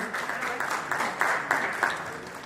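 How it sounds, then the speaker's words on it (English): Applause at an international conference, a moderate wash of audience clapping with a few sharper claps standing out, steady throughout and somewhat distant. "Please give a round of applause for Dr."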